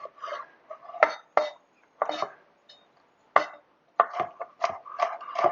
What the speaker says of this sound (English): I am just going to chop these into pretty small dices.